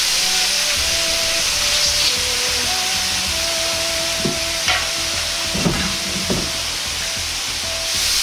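Sake and soy sauce poured into a hot pan of spring roll filling, a loud continuous sizzle up close with a few scraping stirs and clinks breaking through, no voices.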